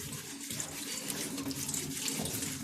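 Potatoes being rinsed under a running kitchen tap, heard as a steady, close hiss of flowing water with soft splashing and no voices.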